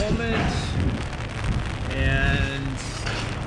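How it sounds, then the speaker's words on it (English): Pouring rain in Simón Bolívar Plaza in Bogotá's Candelaria district, a steady dense hiss with wind buffeting the microphone. A voice speaks over it the whole time. "it's pouring rain at the moment"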